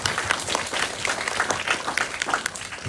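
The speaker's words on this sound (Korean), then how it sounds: "그래서 감독님께 박수 한 번만 부탁드리겠습니다." An audience applauds a director at a short-film screening and Q&A at a youth film festival, with many hands clapping in an even, continuous patter that stays moderately loud throughout.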